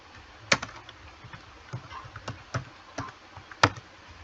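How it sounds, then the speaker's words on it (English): Keys on a computer keyboard tapped in a sparse, uneven run of light clicks, a few sharper strokes standing out, close and fairly quiet with no talking. "Now we'll type in what we want to type."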